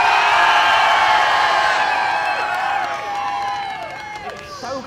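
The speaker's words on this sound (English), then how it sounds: "If you thought the GTR sounded best," A crowd cheers and whoops for the Nissan GTR at an outdoor supercar soundoff during the 2019 Beaulieu Supercar Weekend, a loud, sustained roar that slowly thins toward the end.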